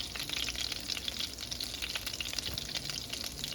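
Garlic sizzles steadily in melted butter for a shrimp Alfredo sauce, a close, continuous crackle and hiss with small popping bursts and no talking.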